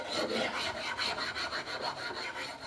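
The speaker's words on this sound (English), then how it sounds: "One of the nice things about these rasps, if we go lengthwise, we can make sure that we're not digging in" A rasp is drawn lengthwise along a wooden shotgun stock under restoration, making steady close rhythmic scraping strokes that repeat without pause and with no talk.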